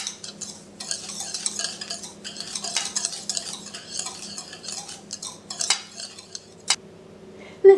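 A spoon stirs pumpkin pie filling with ground cloves and nutmeg in a bowl, a close, rhythmic run of scraping and clinking strokes that thins out near the end, with no voices.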